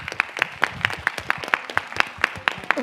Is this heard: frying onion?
no